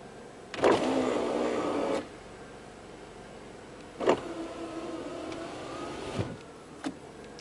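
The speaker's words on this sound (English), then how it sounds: "You can hear the alternator making that alternator whining noise when I do that." Car alternator whining under electrical load during a basic load test at around 1000 RPM, rising in bursts as the load switches on, with a steady hum between, fairly close.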